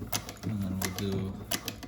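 A Juki 1541s industrial sewing machine back stitching, with short bursts of clattering needle strokes and a steady motor hum between them, close by, while a voice speaks over it.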